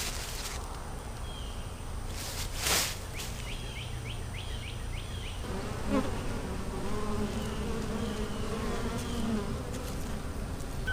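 Steady insect buzzing close by, a honeybee queen droning continuously for several seconds as she is let out near a colony, with a few faint high chirps in the background.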